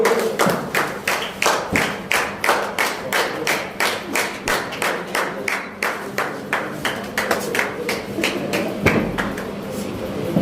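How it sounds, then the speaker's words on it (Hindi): An audience claps in a steady rhythmic unison beat at a journalist training program event, loud and close, with a faint voice underneath. "तालियां"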